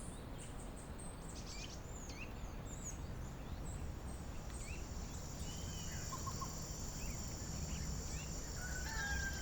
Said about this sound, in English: You can hear the roosters welcoming the morning.